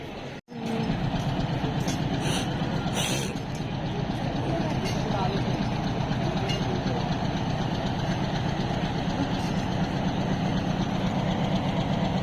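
A continuous, steady local train rumble with a low engine drone from two locomotives, one mid-train, heard from close by for a long stretch, with faint voices mixed in.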